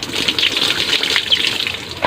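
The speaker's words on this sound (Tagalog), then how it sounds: "Itatanggalan lang natin ng tubig." Water rushes and gushes steadily for a couple of seconds as it drains from soaked banana blossom, a close, hissy pouring sound like liquid draining out of a container.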